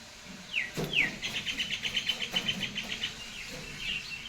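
Small birds arrive at rice scattered on the ground and chirp near at hand in quick bursts, faint over a quiet outdoor background.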